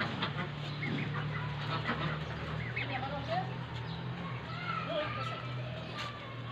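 Chickens and other domestic birds on a rooftop farm cluck and call in scattered bursts over a steady low hum, with voices talking in the background.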